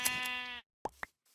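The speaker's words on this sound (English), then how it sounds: "Oh yeah, the sheep has already grown back its wool." A sheep bleats once in a survival video game: a drawn-out, wavering bleat that is clear and close. Two short soft plops follow after a brief silence.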